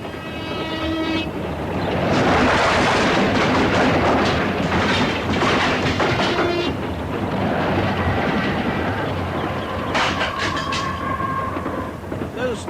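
A train thunders past in a radio comedy drama, building from a rumble into a loud, sustained roar with rhythmic clatter of wagons and horn-like tones, then easing slightly toward the end; no voices are heard.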